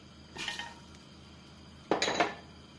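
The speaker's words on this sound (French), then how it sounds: "on va prendre une cocotte. On va y mettre le beurre." A metal cooking pot clanks as it is handled on the stove before butter goes in for a vegetable soup, two short clattering knocks of metal about a second and a half apart, close, with no talking.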